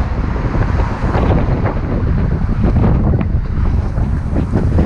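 Strong gusty wind buffets the microphone outdoors at night, a loud, constant low rumbling roar that fills the whole stretch with no voices.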